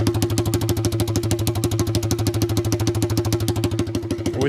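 A small Honda Z50 motorcycle engine runs loud and close with the muffler removed, rapid sharp popping exhaust pulses in a fast even rhythm.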